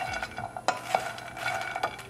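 Makhana and cashews roasting in a hot pan over medium heat, stirred with a utensil that clinks and scrapes against the metal in irregular taps over a light sizzle, close and fairly quiet.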